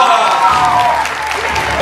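Audience applause at the close of an open PT presentation competition as the winning team is announced, a dense steady clapping that fills the short span, with a host's voice over it.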